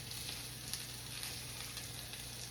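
Eggs frying in a pan give a steady, close sizzle with a soft crackle throughout, under a faint low hum and with no voices.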